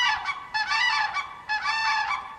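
A goose honks in two loud, nasal bursts, each made of several rapid honks, close and alone.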